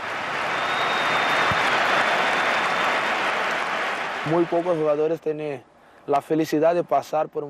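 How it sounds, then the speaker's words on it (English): Real Madrid fans at the Bernabeu Stadium applaud Ronaldinho of Barcelona with a broad, roaring wash of stadium clapping for about four seconds, followed by someone speaking alone. "So good, even Real fans applauded."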